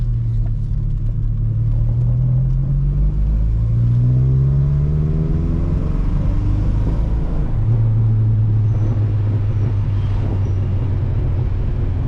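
A Mk2 Volkswagen Jetta with modified exhaust and cams accelerating up a road, a loud low engine rumble rising through the gears with small exhaust pops near the end, no talk.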